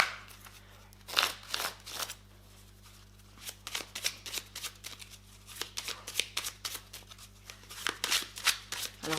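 Tarot or oracle cards are shuffled by hand for a reading, a soft, steady run of riffling and sliding card flutters heard up close in a quiet room.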